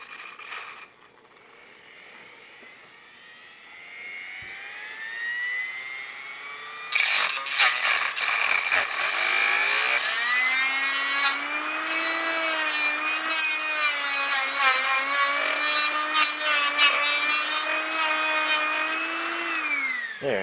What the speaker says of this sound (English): So I'm just going to Dremel that out quickly right now.